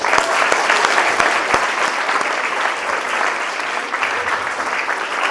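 Sustained, dense applause fills an award ceremony hall at a CBSE school in Mohania, steady and loud from start to finish with sharp individual claps standing out near the front.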